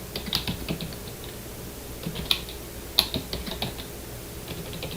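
Keys clatter on a computer keyboard while a simple budget is entered into an Excel spreadsheet, quick irregular bursts of close, light taps with brief pauses between, no talk.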